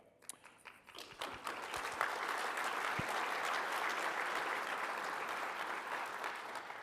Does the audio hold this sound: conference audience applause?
yes